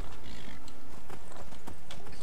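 Horse in the video game Skyrim galloping, close, rapid clip-clop hoofbeats in a continuous rhythm over a dense, loud game soundscape.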